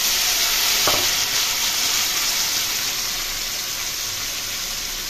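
Hilsa fish coated in ginger, chilli and tomato paste fries steadily in a pan, a continuous close sizzle with a brief stir scrape near the start and no talking.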